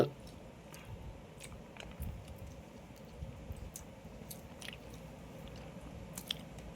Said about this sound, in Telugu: రొయ్య తింటున్నాం